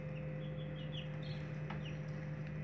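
Twenty young white broiler chicks give faint, scattered high peeps over a steady electrical hum, quiet and somewhat distant, with no voices.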